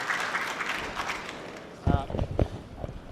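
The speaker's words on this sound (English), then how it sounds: "As I mentioned, we don't want clapping." An audience at a hearing breaks into a short burst of clapping, a few moderately loud claps over a noisy room backdrop.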